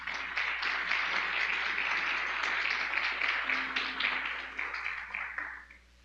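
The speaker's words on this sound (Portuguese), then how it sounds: "Você pode dar uma salva de palmas ao Senhor?" Church congregation applauding together, a dense, loud wash of many hands clapping that holds steady and then tapers off near the end.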